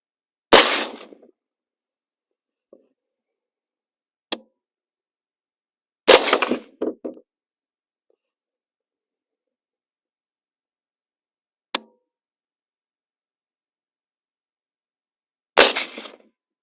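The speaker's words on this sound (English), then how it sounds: "we're going to shoot left to right on the target board, 3 shots each" Suppressed 25-45 Sharps rifle firing at an outdoor range: sharp, loud reports spaced several seconds apart with silence between, some followed by brief echoing tails and faint distant impact pings.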